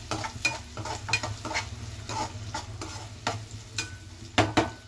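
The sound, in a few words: frying onions and green chillies in a pan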